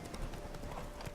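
Roach, the horse in The Witcher 3, trots along with steady, close hoof clip-clops over a continuous, even background of ambient game sound.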